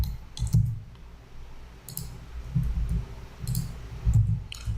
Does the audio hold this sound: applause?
no